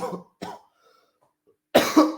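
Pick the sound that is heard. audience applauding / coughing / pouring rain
coughing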